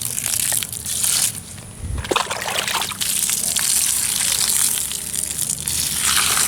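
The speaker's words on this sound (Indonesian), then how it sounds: "kita siram dengan menggunakan air lindi" Leachate water is poured over organic chili plants in a loud, continuous splashing gush, with a short break near the middle before the pouring resumes.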